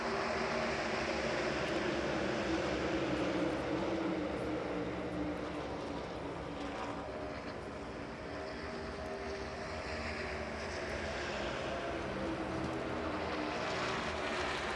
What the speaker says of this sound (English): Just listen to the audio up, turn it up and enjoy the cars at Talladega.